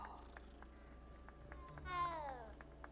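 A cat in Hogwarts Legacy lets out a short, faint meow near the end, set against quiet background sound.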